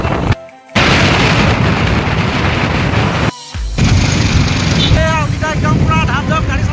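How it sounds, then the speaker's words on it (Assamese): Strong, cold wind buffets the microphone while a truck is being driven, giving loud, rumbling gusts with a couple of sudden dropouts, and a voice briefly comes through near the end. "ইমান বতাহ আহি আছে, মানে আচৰিত বতাহ আহি আছে"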